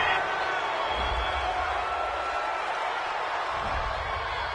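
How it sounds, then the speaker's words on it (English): Home crowd at an NFL game in Jacksonville, Browns at Jaguars, roars steadily in a broad, sustained wash of cheering after a referee's flag, with faint commentary voices underneath. "This home crowd, they're happy with that call."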